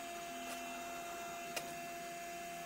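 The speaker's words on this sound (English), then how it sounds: "There, the vacuum is now on" The steady, droning hum of a vacuum system used in turning a boxelder and resin bowl runs throughout, with a couple of brief clicks or bumps along the way.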